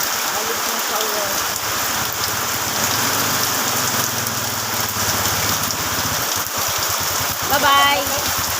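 Heavy rain pours down in a steady, dense roar, with a voice speaking faintly underneath the downpour.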